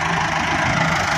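An Al-Ghazi tractor engine runs loud and close in a continuous steady drone with no pauses and no voices.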